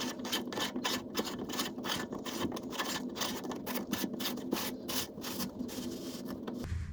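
A sink strainer nut being tightened by hand under a sink, with a rhythmic series of close rubbing, scraping strokes of the threaded plastic or metal turning.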